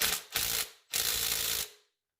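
A ratchet wrench tightening the crank bolt on a Ford EcoBoost engine during a timing belt and water pump job, two quick clicking runs close up with a brief pause between them.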